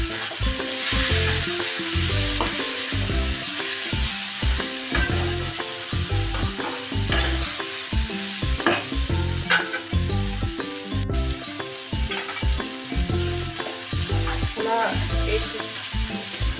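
A ground spice mixture, pounded in a mortar, frying with bitter gourd in a pan gives a steady loud sizzle, broken by frequent scraping stirs and clinks of the spoon throughout, with no voices.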